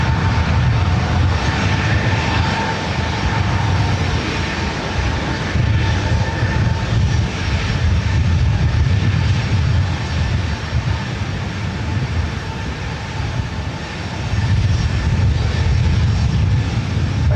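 Jet engines at LAX airport roar in a loud, continuous, thunderous wash that dips slightly near the end and then swells again, with no talk.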